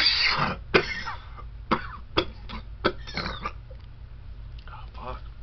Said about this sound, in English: I didn't expect to have a cough attack.